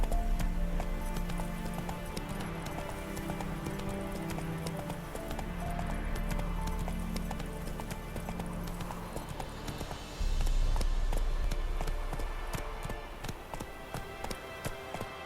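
A horse gallops in The Witcher 3, its hooves clip-clopping in a rapid, steady rhythm that carries throughout, fairly close, over a soft game-music background with a brief surge near the end.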